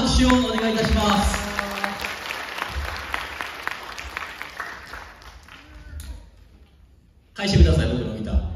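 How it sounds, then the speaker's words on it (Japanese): Audience applause at an acoustic guitar singer-songwriter concert, a loud, dense burst of clapping that thins out and fades to near silence, then a sudden loud resurgence of clapping and crowd noise at the end. "大きな拍手をお願いいたします。"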